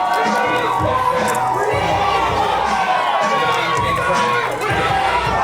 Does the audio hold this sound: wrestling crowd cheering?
yes